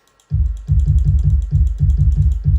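A deep, booming kick drum sample processed with FL Studio's Fruity Bass Boost repeats in a steady rhythm, heavily bass-heavy and loud, with no other instruments.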